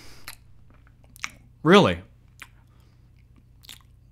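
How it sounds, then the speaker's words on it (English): Someone eats stale, lukewarm prop food, with one short, close crunch of chewing between brief bits of talk. "I don't care if it's prop food. I'm eating it."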